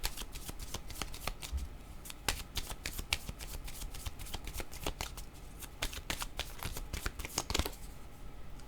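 Tarot cards riffled and shuffled for a card reading, a dense run of crisp close flicks and snaps repeating steadily, with a slightly louder flutter near the end and no speech.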